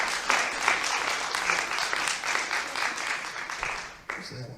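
An audience in a theater claps at a comedian's show, a continuous patter of many hands that fades off near the end before a brief sharper sound.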